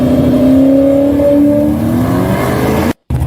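A built-motor drag car with an automatic transmission and a single turbo, running 18-inch ET Street SS tires, revs loudly and close by, its engine tone climbing steadily and holding before cutting off abruptly near the end.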